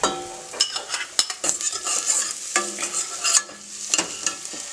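Chopped garlic added to golden brown onions frying for a chicken curry, a lively sizzle broken by repeated metal scrapes and clinks of stirring in the pan, close and fairly loud.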